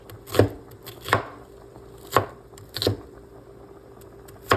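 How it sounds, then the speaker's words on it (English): A knife dices onions on a cutting board for a lamb and green lentil stew, giving sharp, separate chops about once a second, close and with no talking. "what I like to do is dice the onions"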